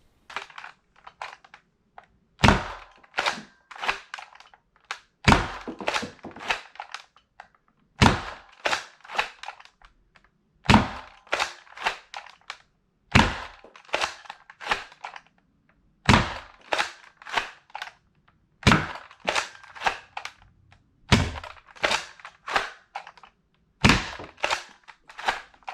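A modified Nerf Ullr blaster, built from a Worker-overhauled Retaliator, fires foam darts in a rapid string of sharp, close snapping shots with mechanical clatter, grouped in repeated bursts with no talk.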